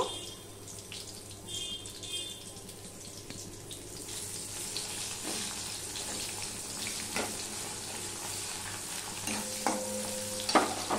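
Chopped onion goes into hot oil with whole spices in a pan. It sizzles at a low steady level while stirring and utensil clinks come and go, with faint kitchen water sounds.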